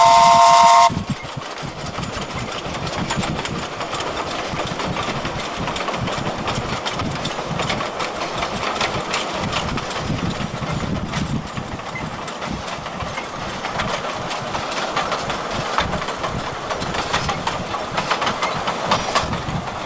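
The steam train Ferdinand on the Gulbene-Aluksne Railway slows toward a level crossing, its engine rumbling and chuffing steadily close by, with a brief whistle-like tone right at the start.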